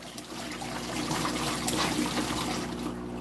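Water runs steadily from a tap in a continuous close hiss and gurgle that stays even throughout and eases slightly at the end, with no talking.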